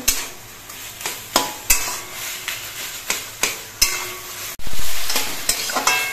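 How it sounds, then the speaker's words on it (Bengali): Taro leaves cooking over medium heat in a pan, with a soft continuous sizzle and a steady rhythm of sharp metal stirring scrapes about every half second, and no talk. "এবার কচু শাকটা বেশ কিছুক্ষণ রান্না করে নিয়ে কচু শাকটা কিন্তু অনেকটাই শুকিয়ে নিতে হবে।"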